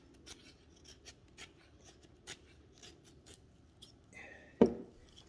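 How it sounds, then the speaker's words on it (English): A Buck 110 folding knife shaving thin feather sticks from fatwood: repeated short scraping strokes at close range, followed by a louder snap or knock near the end. "what the blade is capable of in terms of, you know, getting some feather sticks."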